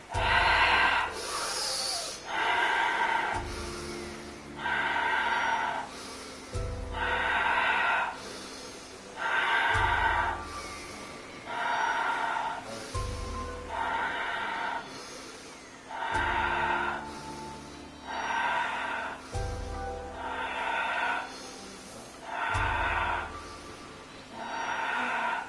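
Deep, rhythmic breathing during a Pilates exercise, with slow inhales and exhales alternating evenly, close and audible, repeating about a dozen times without speech.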